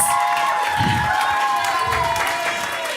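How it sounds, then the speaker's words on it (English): A variety show audience fills the room with dense, sustained applause and some crowd noise, loud and steady throughout, with a few voices mixed into the clapping. "Give Martin a round of applause."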